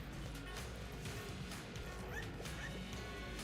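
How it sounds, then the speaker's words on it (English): A dog barks a few times amid a busy, noisy background, the yips and woofs fairly faint and partly masked by the steady din. "Why was the dog barking?"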